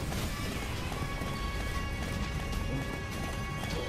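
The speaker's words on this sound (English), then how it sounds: "The dash on this horse is so good." A horse galloping in the action game Attack on Titan Wings of Freedom, with rapid, continuous hoofbeats under loud, dense game noise that stays steady from start to finish.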